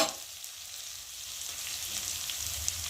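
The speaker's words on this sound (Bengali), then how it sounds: "চলো পেঁয়াজটা ভাজা হোক।" Chopped onions sizzling in a hot pan with a pinch of salt, a steady, close frying hiss with faint stirring and no talk.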